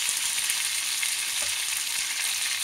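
Onions and tomatoes fry in a pan for coriander chutney, making a steady, close hiss and sizzle with faint stirring scrapes underneath.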